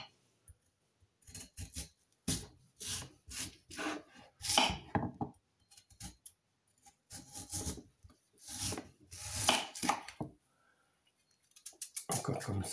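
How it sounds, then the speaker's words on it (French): A knife slices through a red beetroot, producing quiet, close bursts of crisp cutting and scraping strokes in irregular groups separated by short silences. "Donc, je prends ma betterave rouge, je vais couper des tranches,"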